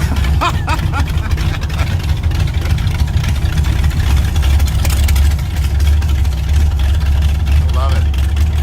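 A Volkswagen Type 3 Squareback gasser with twin VW engines running, a loud, steady low engine drone from inside the car, with people talking over it throughout.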